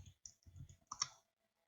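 Quick keystrokes on a computer keyboard, a short burst of several soft clicks close to the microphone, ending in silence.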